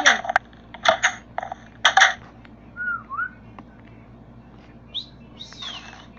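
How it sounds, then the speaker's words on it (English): A person whistles in short bright bursts, a few rapid trills followed by brief sliding notes and a final upward swoop, fairly close and loud against a quiet background. "You really need to know how to whistle"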